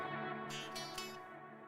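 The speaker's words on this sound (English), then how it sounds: "But you can still hear my delays trailing after I put the volume down." Electric guitar chord with delay repeats ringing on after the volume pedal is rolled off, a sustained smeared tone with faint echoing trails, loud and steady, no voices.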